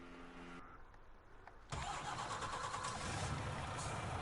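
A truck engine in Farming Simulator 19 cranks and catches abruptly partway through, then settles into a steady, loud running rumble after a quieter stretch of ambient background.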